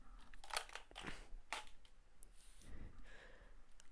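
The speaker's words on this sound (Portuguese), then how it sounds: "Deixa eu só tirar essas cartas da onde elas estão." One Piece trading cards slid and lifted off a playmat, giving a few soft, scratchy rustles and light card clicks spread across a few seconds, quiet and close, with no talking.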